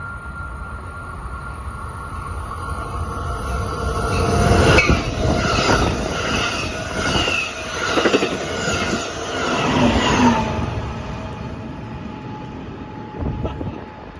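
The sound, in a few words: train passing through Laguna Niguel station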